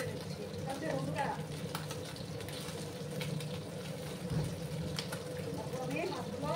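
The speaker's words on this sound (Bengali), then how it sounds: "আমি মাছগুলোকে আর একটু ভেজে নিচ্ছি" Tangra fish sizzle steadily in a pan of oil, a soft, even crackle with faint stirring and clinking at moderate distance.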